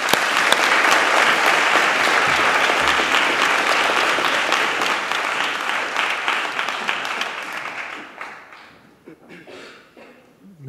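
Loud, dense applause from the audience at the final of a French university eloquence contest, sustained for several seconds and then thinning into scattered claps before a voice begins speaking near the end.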